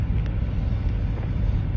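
A car driving along, heard from inside as a loud, steady low rumble of road and engine noise that fills the whole short stretch without talk.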